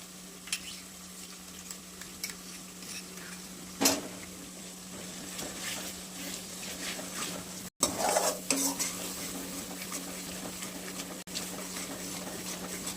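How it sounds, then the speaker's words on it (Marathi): Mushrooms give a low, steady sizzle in a hot pan with frequent scraping and stirring taps of a utensil, a few sharper knocks in between. "आता मस्त ह्याला परतू द्यायचं."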